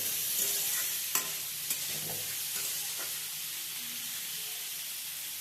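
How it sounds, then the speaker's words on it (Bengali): Green chillies and garlic frying lightly in a pan, a steady bright sizzle with a few sharp spatula stirs and scrapes near the start, close and moderate in level. "কটা কাঁচা লঙ্কা, কটা রসুন, কাঁচা লঙ্কা দিয়ে হালকা ভেজে তুলে নেব"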